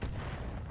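A single heavy mortar blast from the Battletech video game, a loud close low-end boom that rumbles for under a second with no voices.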